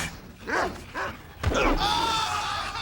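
A dog barks twice inside a TV advertisement for HBO On Demand with Comcast, followed by a busier stretch of sound with sustained tonal lines, all mid-level in loudness.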